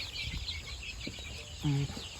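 Domestic chickens on a farm flock of nearly 200 birds, fed on leftover grass, cluck softly and steadily nearby, with one louder, sustained call near the end.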